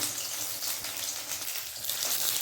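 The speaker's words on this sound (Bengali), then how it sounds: "এখন সেইগুলোকে ভাজা মাখানো আছে আর এখানে হচ্ছে ভাজা চলছে" Marinated meat, being prepared for chilli chicken, frying in a pan gives a steady, dense sizzle that holds evenly throughout at moderate loudness, with no talking.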